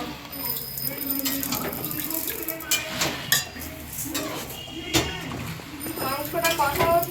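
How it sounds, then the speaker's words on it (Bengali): Rice grains are covered with water for soaking, with a running, splashing pour and clinks from the vessel, under people talking nearby. "এখানে এই রাইসের চালটা একটু ভিজিয়ে রাখা হবে বেশিক্ষণ নয়, 10 মিনিট মতো ভিজিয়ে রাখা হবে"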